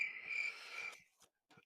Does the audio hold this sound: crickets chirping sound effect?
yes